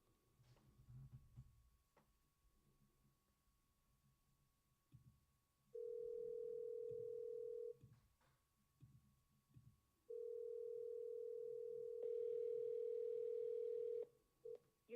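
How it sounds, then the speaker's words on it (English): A phone call rings out through the earpiece: two long steady ringback tones separated by quiet, faint and clean, with a higher tone joining near the end as the call drops to voicemail. "Whatever, let's give this guy a call."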